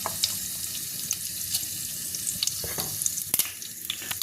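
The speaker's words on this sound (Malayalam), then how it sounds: "കടുകും ഇട്ട് പൊട്ടിക്കാം." Mustard seeds splutter in hot coconut oil, a steady sizzle and crackle with sharp pops scattered throughout, close by, with no voices.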